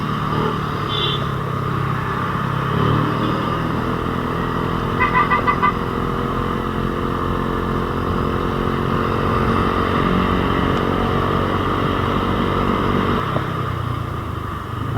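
A Yamaha Aerox motor scooter engine runs steadily on a flat, punctured tire with a low, labored drone, close by and fairly loud, with a few faint clicks and no talking.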